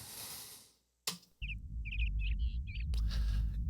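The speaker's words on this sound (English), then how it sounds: "Gotta love the birds." Bright, short bird chirps repeat in quick bursts over a steady low rumble, following a brief hiss and a sharp thump.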